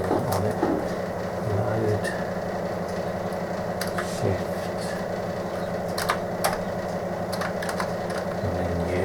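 Keys clacking on a Commodore 64 keyboard as a command is typed, a handful of light taps over a steady background hum, with faint talk in the room.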